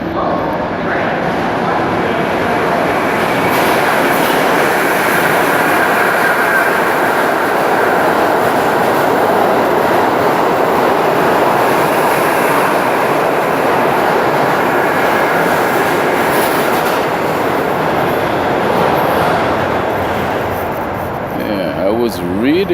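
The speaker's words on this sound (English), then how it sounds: "there is an uptown local train" An uptown local subway train rumbles loudly and steadily through the Museum of Natural History station in New York City, a dense continuous roar of wheels and cars that eases slightly near the end.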